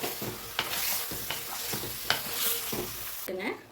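Chicken pieces being stirred in a hot frying pan give a continuous sizzle broken by repeated scraping strokes of a spoon against the metal, close and moderately loud.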